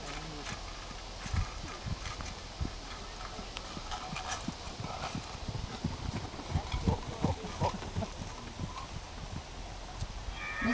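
Horse trotting on firm ground at a breed inspection of Willhelm van Vera, steady clip-clop hoofbeats in an even rhythm over a constant outdoor hum, at moderate distance with faint rustling around.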